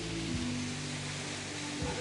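Rain falls steadily as a continuous broadband hiss on a road trip in New Bataan, with a faint low engine hum underneath and no voices.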